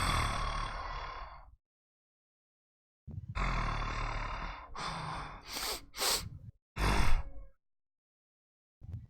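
A human voice imitates a huge creature's heavy, echoing breathing in a big open cave chamber: long rasping inhales and exhales separated by silence, then quicker snorting breaths, close and loud.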